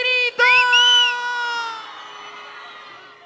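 At a huayno concert in Ayacucho, a loud, long drawn-out shout rings out over the crowd, breaking briefly before swelling again and then fading slowly into a lingering tone.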